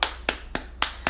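Five sharp hand claps at a steady, unhurried pace, close and crisp, each standing alone with no talk between them.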